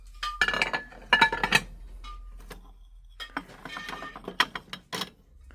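Ceramic plates and bowls clink and clatter as they are picked up and set down in a household goods shop, with sharp bright knocks in irregular bursts, close and moderately loud over quiet store background.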